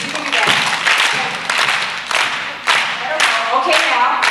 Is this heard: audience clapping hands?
yes